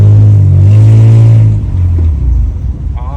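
A low-budget super car's engine revs loudly up close, a deep throaty drone that holds steady and then drops and settles near the end, with no talk over it.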